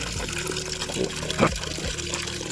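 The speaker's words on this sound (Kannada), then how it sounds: "ನಾವು ನೀರು ಬಿಟ್ಟು ಮತ್ತು ಡ್ರೈನ್ದಿಂದ ಬಂದ್ ಮಾಡಿದೆವು" Tap water runs steadily into the tub of a semi-automatic washing machine, a soft continuous splashing and trickling with a faint voice in the background.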